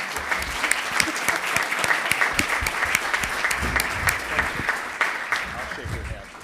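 A conference audience at a legislative preview applauds a panel with a steady roar of clapping, crisp individual claps standing out near the front, and voices mixed in underneath.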